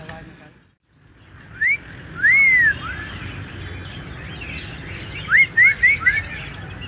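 Myna birds in a bird shop at the Lalukhet bird market give loud whistled calls: one short call, a longer sweeping one, then a quick run of rising whistles over steady background noise.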